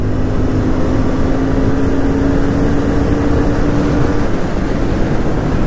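Royal Enfield Continental GT 650 motorcycle pulling hard in fourth gear during a top-speed run, a loud, steady engine drone mixed with heavy wind rush that holds throughout.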